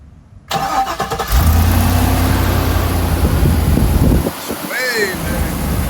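A truck with an LS engine, just after header repair, cranks and fires up close by, then settles into a loud, rough idle that continues steadily, with a brief voice near the end.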